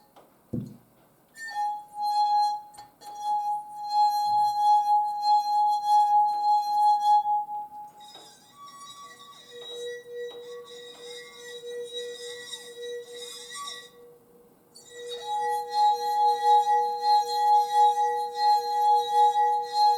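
Beer mugs partly filled with liquid are played as glass instruments, giving clear sustained ringing tones. Several pitches follow one another across the passage, with short gaps between the notes and no voices.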